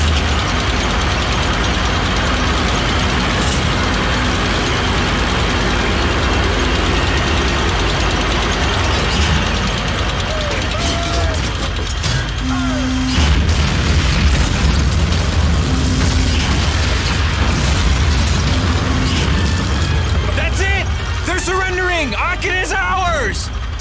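Tanks and explosions in the World War II shooter Call of Duty: Finest Hour, with a low rumbling engine drone throughout, scattered booms and bursts, and voices talking over the battle.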